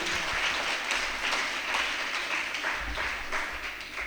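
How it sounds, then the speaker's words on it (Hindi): An audience at a student vocal music seminar in Varanasi breaks into loud, sustained applause after a vocal performance, a dense wash of clapping that swells and holds for several seconds. "एक बार फिर से जोरदार तालियां।"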